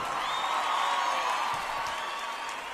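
A live concert audience applauds a Brazilian band. Dense, continuous clapping mixes with scattered whoops and cheers, holding steady throughout.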